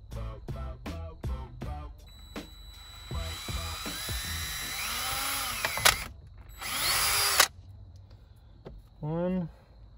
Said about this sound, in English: Now I'm just gonna take my drill